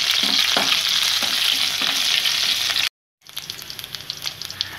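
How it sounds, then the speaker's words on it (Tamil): Curry leaves dropped into hot oil with golden-browned chana dal for beetroot poriyal: a loud, close, spitting sizzle that cuts off for a moment, then returns as softer, scattered crackling, with no talking. "இப்போ வந்து நம்ம கருவேப்பிலை போட்டணும்."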